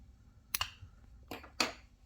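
Small scissors snip a crochet yarn tail on a pumpkin piece: a few quiet, close crisp clicks in quick succession against near silence, with no talking.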